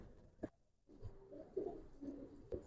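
Old-breed Giribaz racing pigeons coo softly in a few short, low throaty bursts, close by and quiet, with a couple of brief sharp knocks between them.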